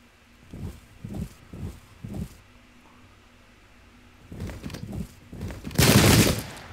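Rifle volleys crack out in a Battle of Ulundi war game: four evenly spaced shots early on, then a denser ragged burst of gunfire building to a loud, sustained roar at the end.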